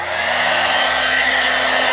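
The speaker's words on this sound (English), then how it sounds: "we are going to blow off all the hairs with this blow dryer" A hair dryer blows steadily at close range, blowing cut hairs off during a haircut, a continuous loud whooshing hum with no breaks.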